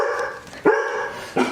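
Dog barking close and loud, two sharp barks about a second apart with a faint whimpering tone between them.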